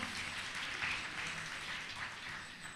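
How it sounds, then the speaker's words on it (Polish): An audience applauds at a regional carol and pastorale singing competition: a steady, even patter of many hands that sounds somewhat distant and fairly quiet, with no clear breaks. "Także brawa dla niego"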